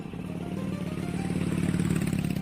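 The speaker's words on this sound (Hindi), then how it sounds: "वह उस ओर इशारा करने लगा जिस ओर प्रभात अपनी बाइक स्टार्ट कर रहा था।" A motorcycle engine turns over and runs in a Hindi audiobook scene, a steady mid-pitched motor drone with a faint rattle that holds evenly throughout, close and fairly loud with no voices.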